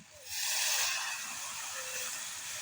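A sudden loud hiss and steamy sizzle as hot water hits a pot of frying spices, surging up then settling into a steady bubbling hiss.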